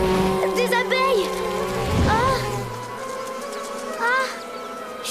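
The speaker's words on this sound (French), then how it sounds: "Oh, des abeilles!" Cartoon swarm of bees buzzing loudly and continuously, with wavering whiny buzz tones rising and falling over several seconds, fading somewhat toward the end; jungle animation setting with black bees.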